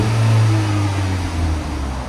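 Stock exhaust on a 2006 Pontiac Solstice with a 2.4L engine, a loud close droning rev holding a steady low tone before easing slightly toward the end.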